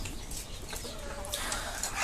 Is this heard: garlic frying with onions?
no